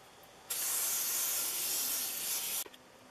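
Rem Oil sprayed from an aerosol can onto cleaned Stanley No. 62 low angle block plane parts, a single steady hiss lasting about two seconds, close and alone in a quiet room.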